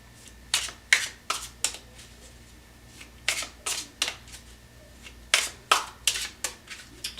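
Tarot cards being shuffled in quick bursts of crisp riffling flicks, close and loud, in three clustered groups with short quiet gaps between them, with no voices.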